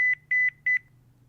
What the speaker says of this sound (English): My ringtones, low beep ones,